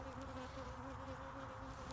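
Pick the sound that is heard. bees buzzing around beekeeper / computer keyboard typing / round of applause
bees buzzing around beekeeper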